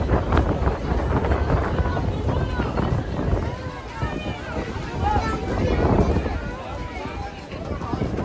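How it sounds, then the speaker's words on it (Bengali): Gusty wind buffets the microphone in rumbling surges, rising and easing, while people talk nearby amid an outdoor bustle at the Rhine Falls, Switzerland. "ও সুন্দর একটা হাওয়া দিল রে ভাই, বাঁচা গেছে, একটু হাওয়া আসছে।"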